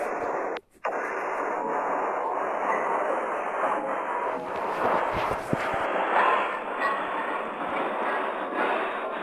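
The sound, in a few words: Indian passenger train moving and accelerating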